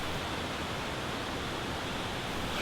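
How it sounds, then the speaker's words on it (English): Galovac Buk, a 16-meter waterfall among the Plitvice Upper Lakes, roars as a steady, dense broadband rush of falling water, loud and constant throughout with no voices. "Galovatsky Buk is a 16-meter-high waterfall situated in the heart of Upper Lakes"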